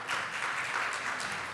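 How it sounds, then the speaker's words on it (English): Brief burst of audience applause at a business technology road show and awards event in Dubai, greeting the keynote speaker with a dense, even wash of clapping from a large crowd in a hall. "A round of applause, ladies and gentlemen."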